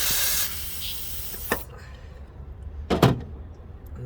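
Short hissing bursts of WD-40 sprayed from an aerosol can during work on a Volvo 940 heater matrix, one brief spray followed by a louder second burst, over a quiet workshop background.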